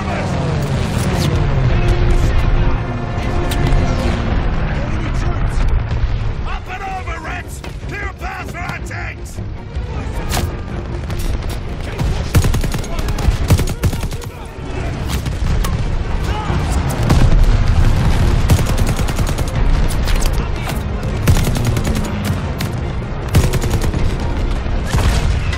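Bomber air raid in Call of Duty: Vanguard at the Battle of El Alamein: a dense, loud barrage of explosions, crashes and machine-gun fire rolling on continuously, with voices shouting through the din.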